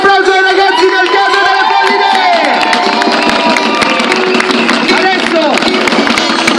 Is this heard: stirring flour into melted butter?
no